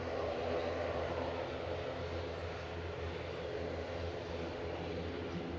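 A Singapore Airlines airliner taxiing out at Manchester Airport, giving a low, steady rumbling drone with a faint engine hum, constant and fairly distant, no voices over it.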